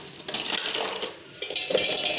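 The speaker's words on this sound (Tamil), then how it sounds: "ஃபர்ஸ்ட் இந்த பர்பன் பிஸ்கட் எடுத்து இந்த ஜாரில் வந்துட்டு மிக்சர் ஜாரில் நல்லா ஆட் பண்ணிக்கலாம்." Bourbon biscuits tipped into a steel mixer jar in a home kitchen, a quick cluster of light clinks and rattles against the metal, close and fairly faint, with no talk.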